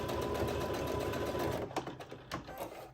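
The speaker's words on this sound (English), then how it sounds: "When we're sewing the darts, you wanna back stitch right here at the very beginning." A sewing machine stitches darts in fabric with a fast, steady mechanical whir up close, then slows into a few uneven clicks as it stops.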